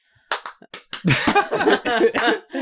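A voice imitates hambone body slapping as performed by Ringo Starr alone on stage, a quick run of percussive mouth smacks and clicks that builds into a dense, rhythmic patter.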